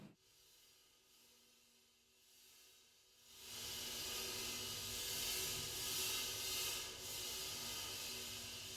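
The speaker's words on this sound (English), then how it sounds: "I put a sizzle on a cymbal and then just recorded it like in a room mic" A dry metallic hiss rises after a few seconds of quiet room tone, then holds steady with slight swells: a sizzle chain moved across a cymbal, picked up by a room mic.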